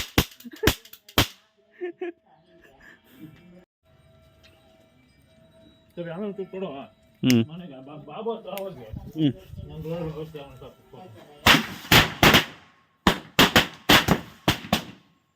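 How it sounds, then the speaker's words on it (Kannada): Sharp firecracker bangs crack in quick bursts at the start and end, with people talking in between, during Diwali celebrations in the Malnad region. "ಈಗ ಪಟಾಕಿ ಹೊಡೆಯುವ ಟೈಮ್"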